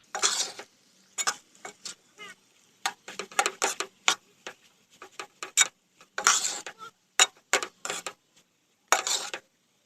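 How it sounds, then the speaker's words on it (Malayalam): A spoon scrapes and clinks repeatedly against a pan as rice and egg for tomato rice are stirred, irregular bursts of metallic scraping separated by short silences, close and clear. "ചോറും മുട്ടയും നന്നായിട്ട് ഇങ്ങനെ ഇളക്കി കൊടുക്കുക"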